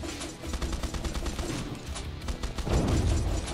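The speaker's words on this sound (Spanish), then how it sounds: "Empezamos a meter explosiones" Rapid bursts of explosions and gunfire-like blasts rattle in quick succession in the horde survivor game Swarm Grinder, dense and loud throughout.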